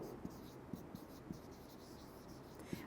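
Writing with a pen during an English lecture, soft close scratches and taps recurring every half second or so under a steady background hiss.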